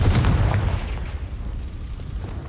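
The Confringo spell bursts in Hogwarts Legacy with a sudden loud boom, a deep thump that quickly decays into a low rumbling tail.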